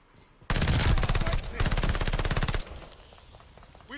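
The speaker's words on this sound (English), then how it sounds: "this recoil booster PPSH is actually like ludicrous" A PPSH-41 submachine gun with a recoil booster fires in Call of Duty Vanguard, one loud rapid burst of closely spaced shots lasting about two seconds before cutting off into quieter game ambience.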